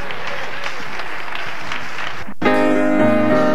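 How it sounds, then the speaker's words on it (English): A church congregation clapping hands in praise, sustained applause that cuts off abruptly, followed by organ or sung music with sustained tones. "Give him a hand clap of praise for the promise."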